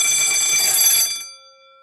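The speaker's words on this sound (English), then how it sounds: "let's trip the alarm now" A 1970s burglar alarm bell ringing on test, a loud continuous metallic clanging that stops after about a second and leaves a ringing tone fading away.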